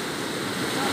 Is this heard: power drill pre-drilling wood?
no